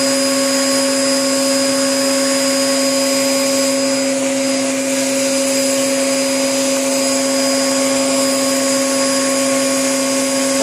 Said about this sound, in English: Let's vacuum Tara.